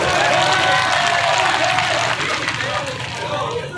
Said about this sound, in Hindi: शानदार तालियों से इनका स्वागत करें।